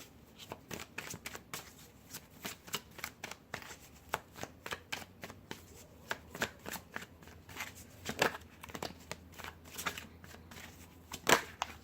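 Tarot cards being shuffled by hand, a long run of crisp, rapid riffling flicks, close and fairly quiet, continuing steadily without speech.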